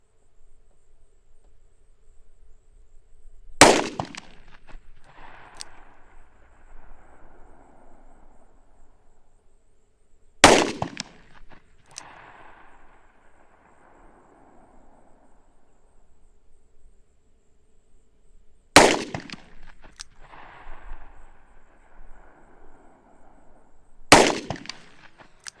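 A Taurus pistol with a 2-inch barrel fired at a 100-yard target, four loud, sharp single shots spaced several seconds apart outdoors, each trailing a short echo.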